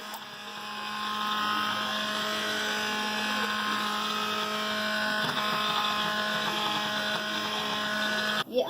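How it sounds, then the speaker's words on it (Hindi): A hand blender grinds a pot of haleem for a Muharram meal, giving a steady, even motor hum with a bright whine that runs unbroken for the whole stretch and cuts off sharply at the end. "हैंड ग्राइंडर करेंगे।"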